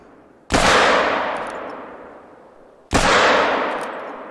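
Two loud, sharp gunshots in a multiplayer hunting video game, spaced a couple of seconds apart, each ringing out with a long, fading echo.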